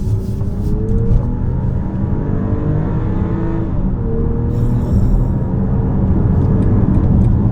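BMW X5 40i SUV driving at speed, a steady loud engine and road rumble with rising tonal whine, continuous throughout with no talk.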